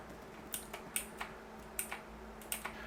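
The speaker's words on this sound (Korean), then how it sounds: "키보드의 X키를 눌러서 확인을 해 보겠습니다" Quiet, sharp clicks of computer keyboard keys being pressed, about eight taps at uneven intervals over a faint background hiss, with no voices.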